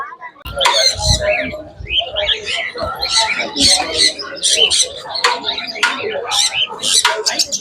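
Lovebirds chirp and squeak in quick bursts at a busy Sunday market aquarium shop, close and lively, with people talking nearby.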